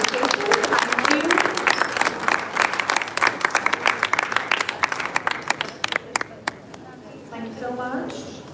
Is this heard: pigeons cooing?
no